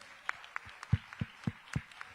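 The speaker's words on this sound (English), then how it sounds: "Give her a round of applause" Sparse, soft clapping at an indoor event honoring a minister, a few hands striking in a loose, uneven rhythm at a distance with quiet room noise between claps.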